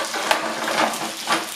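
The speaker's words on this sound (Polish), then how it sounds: "ja sobie po prostu tu zeszklę cebulkę" Chopped onion sautés in a frying pan with a soft, steady sizzle, broken by a few brief stirring scrapes and louder crackles, close by.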